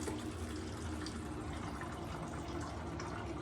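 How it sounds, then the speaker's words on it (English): Water trickles and gurgles steadily through a Sawyer filter into a bottle outdoors on the Pacific Crest Trail, a close, continuous soft filling sound with no talking. "Just filling up water for the day."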